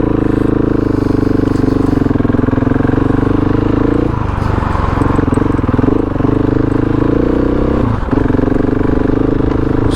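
A four-wheel-drive vehicle in 4WD mode grinds along a bush track in Tasmania, its engine a steady close drone with clattering and knocking from the rough ground, a couple of brief dips and jolts along the way.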